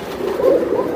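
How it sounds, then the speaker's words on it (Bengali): A Napta pigeon gives one short, soft coo, close and alone. "এইটা হচ্ছে নাপ্তা কবুতর"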